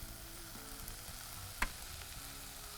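Continuous sizzling and crackling of greens with coriander and mint sautéing in a hot pan, steady and close, with a single sharp clink midway.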